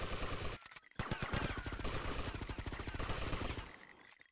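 Rapid sustained gunfire in the video game GTA Vice City, a dense burst of fast repeated shots running for several seconds, loud and close, with game voices briefly around it.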